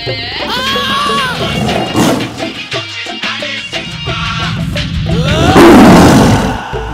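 A tiger roars in a Telugu comedy film scene, with several loud, rough roars and growls mixed with music and other soundtrack noise over about seven seconds.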